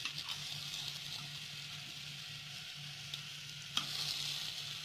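Tempeh and tofu fritters sizzle steadily in an oil-free pan after being flipped, a continuous close frying hiss with a faint low hum beneath and one sharp click near the end.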